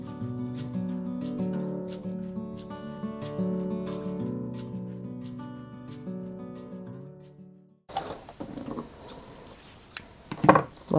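Scissors trim excess lace fabric from a face mask: a few short snips and crisp rustles near the end, close and quiet, following a stretch of a different mechanical sound.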